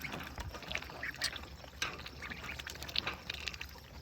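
Ducks dabble and splash in water nearby, with soft quacks and slurping sounds scattered over a low outdoor background.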